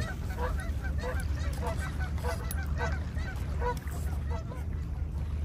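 A steady stream of goose honks, several birds calling over one another close by on a small island campsite against a continuous low background rumble.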